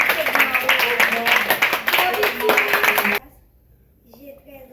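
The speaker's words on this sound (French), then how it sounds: "On l'applaudit." An audience at a children's reading competition applauds energetically with rapid overlapping claps and voices mixed in, then the clapping cuts off abruptly into near silence.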